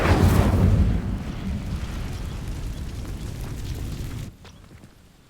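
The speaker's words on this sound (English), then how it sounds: "These dry vines are one spark away from becoming kindling. Incendio!" The Incendio fire spell ignites dry vines in Hogwarts Legacy with a loud whooshing burst at the start. It settles into a crackling roar of flames that holds steady, then cuts off abruptly near the end. No voices are heard.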